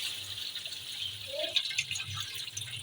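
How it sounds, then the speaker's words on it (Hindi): Frozen meat being washed in a basin of water in a home kitchen, giving faint, close splashing and dripping with small irregular trickles and no talking. "मैंने तीसरी बार इसमें पानी डाला और अब हम इसको फिर वॉश कर रहे हैं"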